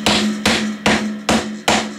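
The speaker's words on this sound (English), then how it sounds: "we'll get a hammer that doesn't hurt things too much" A hammer strikes a Fender Jaguar bass guitar that was run over by a car, five evenly spaced sharp whacks, loud and close, each ringing briefly with a metallic hum underneath.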